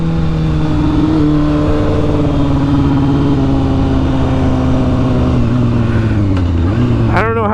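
A newly bought motorcycle's engine revs loudly and steadily up close, its droning tone sustained before dipping as the revs drop, with a brief sharp rising squeal at the very end.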